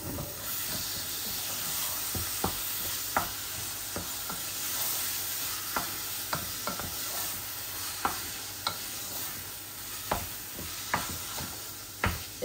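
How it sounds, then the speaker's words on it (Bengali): Lamb mince frying in a pan, a continuous sizzle and hiss with a dozen or so sharp clacks of a spoon stirring and scraping at irregular intervals, close and fairly loud, with no talking. "এই অল্প করে একটু কিমা রান্না করতেছি।"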